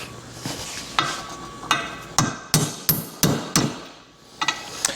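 Sharp metallic blows of a metal hammer on an XLCH motorcycle engine case ring out close by, about ten strikes at an uneven pace with brief pauses between clusters.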